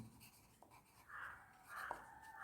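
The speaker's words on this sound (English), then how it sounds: "Let me first of all write it down." Chalk or a pen scratches out an equation on a board during a physics lecture, giving faint, brief scraping strokes against a quiet room.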